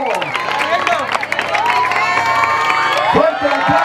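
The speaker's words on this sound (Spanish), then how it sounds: "¡Fuerte aplauso para Rogelio, tercer lugar!" A lively crowd at a color run awards ceremony cheers, whoops and claps for the third-place finisher, with children's shouts and excited voices mixed in throughout, loud and close.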